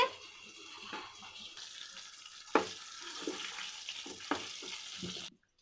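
Chicken leg pieces sizzling in a hot pan with fried turmeric powder, a steady hiss of frying with a few sharper crackles and bursts, close and moderately loud, cutting off abruptly at the end.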